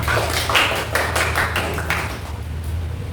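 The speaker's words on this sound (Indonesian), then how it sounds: "Ya tepuk tangan semua." Audience clapping hands at a school presentation, a moderately loud burst of overlapping claps that thins out toward the end, over a low background hum.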